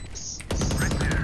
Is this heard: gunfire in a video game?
yes